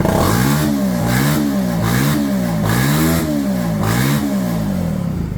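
A small Viper V250CR moped engine revs steadily, its pitch rising and falling in repeated waves, loud and close with no voices.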